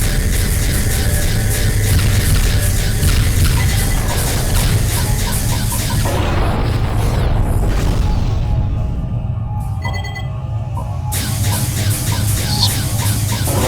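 Missile explosions in the space combat game Freespace, a continuous loud wall of roaring blasts and rumbling static, thinning briefly midway before the dense crashing resumes, with no voices.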